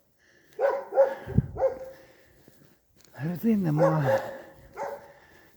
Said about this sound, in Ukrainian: Отут собачка на мене гавкає.